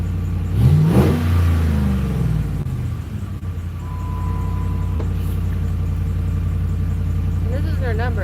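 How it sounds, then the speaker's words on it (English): Car engine cranking up and revving, a loud rising rev that falls away into a steady close idle rumble, with voices talking over it. "So one more crank up and random rev"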